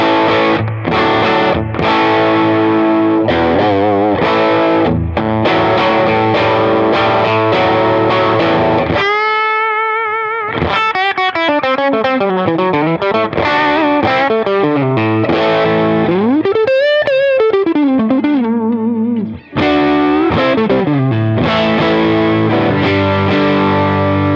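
Electric guitar played through a Peavey Bandit 112 amp with a Riverside overdrive pedal, loud and driven with chords and riffs, breaking into sustained, bending single-note lines midway before chords return.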